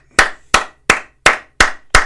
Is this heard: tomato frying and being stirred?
no